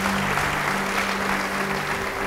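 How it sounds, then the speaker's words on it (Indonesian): Steady applause from a church congregation at a sermon program fills the space, a dense continuous wash of clapping with a faint low hum beneath, without pause. "Beri tepuk tangan yang baik bagi dia."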